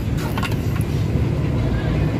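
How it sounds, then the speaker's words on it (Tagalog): A Suzuki Multicab engine idles steadily after a head gasket fix, a loud close low rumble with a continuous even drone throughout the short stretch. "Sige, so ito yung andar guys."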